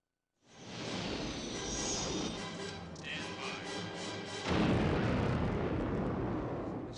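Layered explosion sound effects for battle scenes and destruction: a long, loud rumbling roar with crackling debris, swelling again midway into a heavier blast, then continuing to rumble without dying away.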